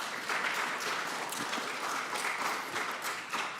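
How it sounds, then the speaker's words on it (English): Steady audience applause fills a congressional hearing room on unidentified aerial phenomena, a dense, even clapping texture that holds at moderate loudness throughout with no voices on top. "Y'all keep clapping, us politicians just keep talking"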